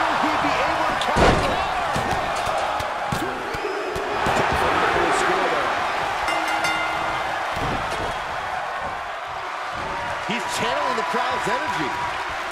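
A power slam in the WWE 2K23 wrestling game, set in the ECW Arena, lands as a sharp thud amid a loud, steady crowd roar, with commentary voices talking over the arena noise throughout.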